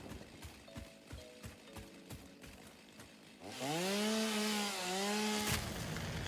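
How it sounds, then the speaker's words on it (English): A chainsaw cuts wood in an Xbox video game, first a few scattered game sounds, then a loud, close engine whine that rises and holds with revving pitch for about two seconds before cutting off abruptly. "I am going to go around and collect us up some wood using our trusty chainsaw."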